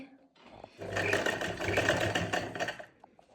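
A sewing machine runs in a short close burst, stitching a finishing strip onto a dupatta, its quick whirring rattle rising from quiet, holding steady for about two seconds, then stopping.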